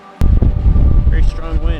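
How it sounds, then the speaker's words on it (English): Strong wind from a small but powerful supercell storm roars steadily into the microphone outdoors, with loud buffeting that persists throughout and faint tonal whistles near the end. "Very strong wind."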